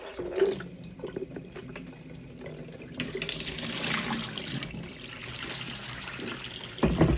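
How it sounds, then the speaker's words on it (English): Cold tap water runs steadily into a sink, splashing and gurgling as something is rinsed after a descaler treatment, with a brief clatter near the end; no talking. "Rinse it with a little bit colder water."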